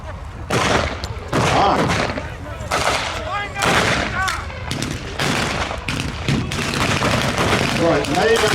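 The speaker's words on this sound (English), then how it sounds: "laying and firing on the German positions. And grenades working" Gunfire and grenade blasts crackle through a Tiger 131 tank battle re-enactment at The Tank Museum, loud repeated bursts of shots and booms in quick succession, with voices talking over the outdoor battle noise.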